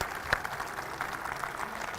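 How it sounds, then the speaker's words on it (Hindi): A crowd applauding to welcome a guest onto the stage at an Independence Day event, steady dense clapping throughout. "आप हमारे बीच में जोरदार तालियों के साथ स्वागत कीजिए SK तिग्गा जी का।"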